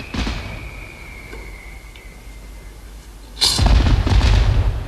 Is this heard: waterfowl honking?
no